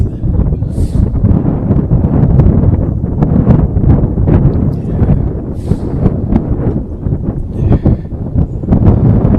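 Strong wind buffets the microphone at a high school baseball field, a loud, continuous rumbling roar with gusty surges and no clear talk.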